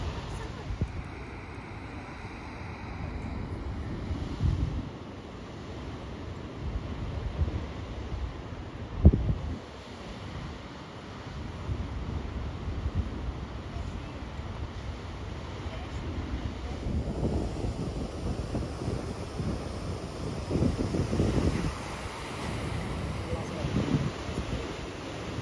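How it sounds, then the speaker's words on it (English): Ocean waves surge into a hole in the rocks along the shore, with rolling swells that rise and fall over heavy wind buffeting the microphone and a sharp splash near the middle. "Waves coming in the hole."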